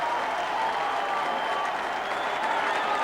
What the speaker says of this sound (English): The crowd here, the Melbourne crowd, are loving every moment of it.